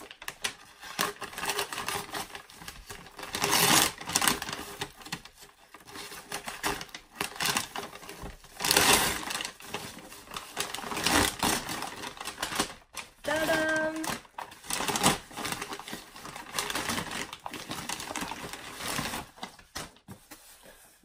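A cardboard subscription box of Doodle&Sketch markers is torn and pried open up close. The sound comes as bursts of rustling, tearing and scraping with short pauses between them, and a brief tonal squeak in the middle.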